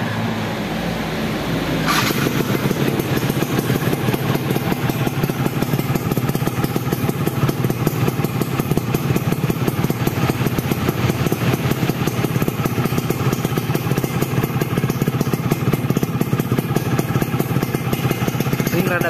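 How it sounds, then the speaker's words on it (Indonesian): Modified Yamaha F1ZR motorcycle engine running after a brief start, a loud close steady two-stroke putter with light throttle, holding a continuous rapid beat to the end. "kita langsung saja dicoba untuk dicek suara, tapi tipis-tipis aja ini mah"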